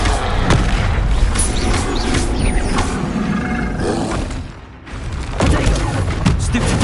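Spell explosions crash and roar in a Hogwarts Legacy battle, dense booming blasts layered over rumbling combat noise, loud and continuous with a brief lull before another burst of impacts.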